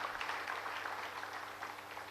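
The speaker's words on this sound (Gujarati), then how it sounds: "તાળી લગાડો એકવાર આપણી વાણીમાં." Applause from the audience at a lecture, a steady, fairly faint patter of many hands clapping, heard on its own for about two seconds.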